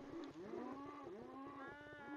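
Cows moo in a video game while being bred, a chain of low, drawn-out moos overlapping one another at a steady, close, moderate level with no talking.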